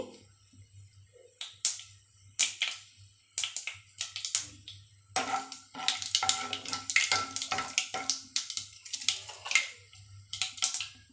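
Egg frying in a home kitchen pan for a quick Telugu-style dish, with irregular crackling pops and sizzle bursts, sparse at first then busier, close and fairly quiet, no talk.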